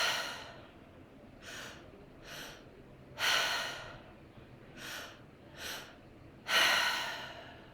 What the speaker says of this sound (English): the second inhale up into the chest, filling the lungs to the top. And then exhaling everything out through the mouth